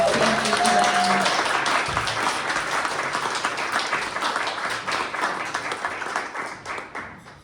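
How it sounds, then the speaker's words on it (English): An audience at a community conversation on addiction and recovery gives a sustained round of applause, dense clapping that stays fairly loud throughout and thins slightly toward the end, with a brief voice near the start. "Let's give one more round of applause"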